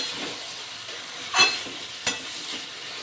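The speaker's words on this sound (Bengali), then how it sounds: "মশলার সঙ্গে কপি আলু সব কষানো হয়ে গেছে প্রায়" Cauliflower and potato fry with spices in oil, making a soft continuous sizzle, with two sharper stirring scrapes standing out midway.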